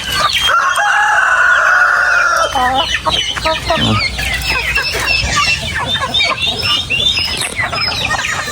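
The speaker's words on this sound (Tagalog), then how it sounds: "Manok at pabo natin, tuwang-tuwa sila." Chickens and turkeys on a farm clucking and crowing, a long rooster crow up front followed by a dense, lively flurry of overlapping clucks and calls, loud and close.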